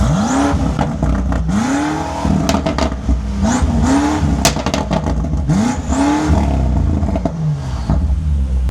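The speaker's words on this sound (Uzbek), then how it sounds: "Stok holatidagi BMW M8 Competition'ni ovozini eshitamiz." A stock BMW M8 Competition engine revs repeatedly, each burst rising sharply in pitch before dropping back to a deep rumbling idle, loud and close.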